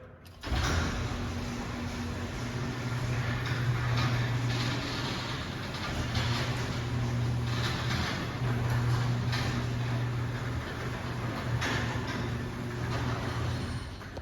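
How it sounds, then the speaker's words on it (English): A LiftMaster MT5011U operator runs the back door of a shop, giving a steady mechanical motor hum with low tonal drone and creaking rattle throughout, close and continuous with no talking. "we've got new LiftMaster MT5011U operators installed. So I guess we'll start by running the back door."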